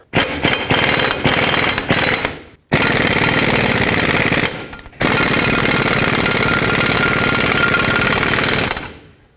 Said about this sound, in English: I'm going to snug up this nut.